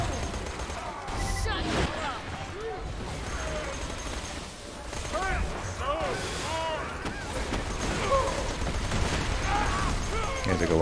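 Flame SMG gunfire in the video game Borderlands, aimed at a Juggernaut enemy: continuous busy bursts of shooting lasting throughout, layered with explosions, game effects and voices.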